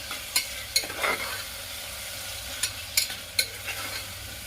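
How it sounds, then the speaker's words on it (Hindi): Potatoes and onions fry over a medium flame in a pan for a Bihar-style green peas godla, with a soft continuous sizzle broken by several distinct scraping clacks of a spoon stirring against the pan; no one talks. "आलू और प्याज को मैं मीडियम फ्लेम पर ही भूनूंगी।"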